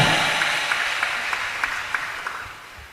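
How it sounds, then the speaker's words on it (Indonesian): An audience at an Islamic boarding school graduation and Alfiyah recitation event gives a soft burst of applause that fades gradually over a few seconds. "Berikan tepuk tangan yang meriah."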